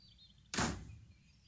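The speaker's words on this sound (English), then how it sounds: "I simply slammed the door behind me" A door slams shut with a single sharp, forceful bang that dies away quickly in an otherwise quiet room.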